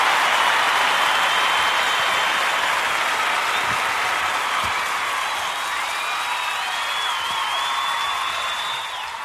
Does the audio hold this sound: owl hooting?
no